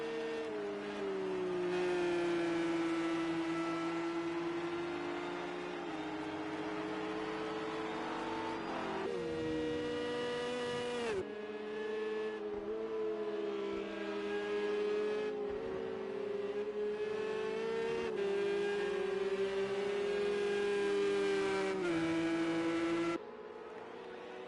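Race cars lapping Silverstone in a PS4 racing game, a continuous whining engine drone with shifting pitch as the car accelerates and changes gear, loud and close before dropping off at the end.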